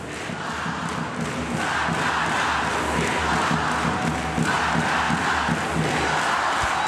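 Minas fans cheering and chanting in a packed volleyball arena at a South American club championship final, a loud, continuous crowd roar with rhythmic surges.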